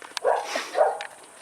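A dog barks nearby in a short run of a few rough woofs, loud and close, with no speech over it, heard around a car undergoing front and rear disc brake replacement.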